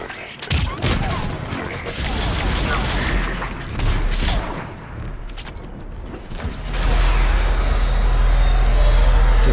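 Enemy gunfire rattles in bursts in the Mass Effect 3 video game, mixed with mechanical clanks and a deep engine drone that swells toward the end.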